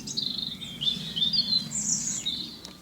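Birds chirp and tweet outdoors on a summer day by washing on a line, a steady mix of several small calls and trills at moderate distance, with a faint low background hum and no talking.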